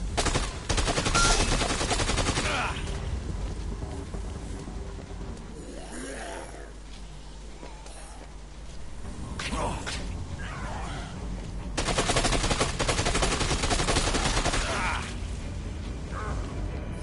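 Rapid automatic gunfire from the PS4 game Dead Rising 2 rattles in loud continuous bursts, briefly easing in the middle before resuming, with a voice intermittently audible beneath the shooting.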